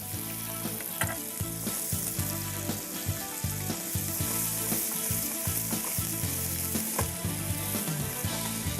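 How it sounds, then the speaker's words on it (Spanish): Tomato-based stew starter for salt cod with potatoes sautéing in a pan, a loud continuous sizzle close by with occasional spoon scrapes and clicks from stirring, and nobody talking. "Simplemente rehogamos un poco."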